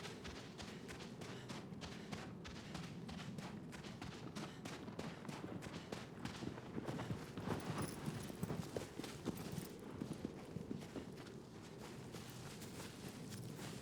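Horse hooves clip-clop steadily at a moderate distance in the video game Shadow of the Colossus, a continuous rhythmic thudding over a faint ambient background throughout.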